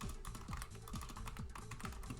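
Fingers type steadily on a computer keyboard while someone writes Python statistics code, keys clicking in quick, close bursts with brief pauses, no voices.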